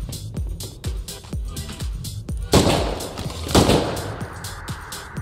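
Gunfire aimed at base fences in the survival game Rust: a rapid run of loud, sharp shots with two heavier bursts, continuing throughout.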